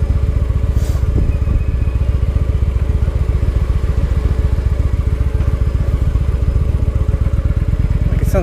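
Motorcycle engine running steadily up close with a loud, rapid pulsing beat and a faint loose clatter riding on top, no voices.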